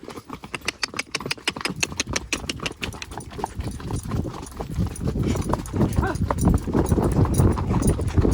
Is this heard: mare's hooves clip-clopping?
yes